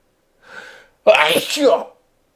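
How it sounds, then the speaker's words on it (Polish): A short intake of breath, then a single loud, close sneeze. "Zaraz kichnę."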